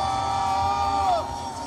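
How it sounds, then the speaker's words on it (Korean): A church congregation shouts a sustained, loud war cry together during a prayer rally, a dense wall of massed voices with a long sung tone sliding down near the end. "계속 함성을 외치겠습니다"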